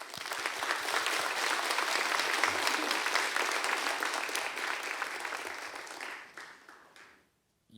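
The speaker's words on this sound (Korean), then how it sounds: "우리 목사님과 선교사님 나오실 때 우리 뜨거운 박수로 환영하겠습니다" A church congregation at a Sunday mission service claps warmly to welcome a pastor and a missionary. The dense, steady applause holds for about six seconds, then fades quickly to silence.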